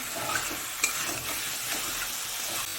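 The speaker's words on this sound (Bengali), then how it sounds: "মশলা দিয়ে যতক্ষণ না কাঁচা গন্ধ হয়ে যাচ্ছে একটুখানি কষিয়ে নেব।" Spice paste stir-fried in a pan for a prawn and taro-root curry, giving a steady close sizzle with soft scraping of a spatula and one brief metallic clink.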